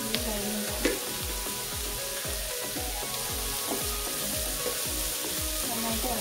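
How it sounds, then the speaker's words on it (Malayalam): Onions sizzle and fry in a pan with salt for an egg curry while being stirred, giving a steady loud crackle with regular rhythmic scraping strokes of the spoon throughout. "നന്നായിട്ട് ഇളക്കിക്കൊടുക്കാം. ഉള്ളി കഴിഞ്ഞ് ഗോൾഡൻ കളർ ആകുമ്പോഴത്തേക്കും"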